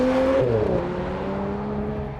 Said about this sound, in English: the other reason you would choose the 6-cylinder Macan over the regular one is the sound it makes.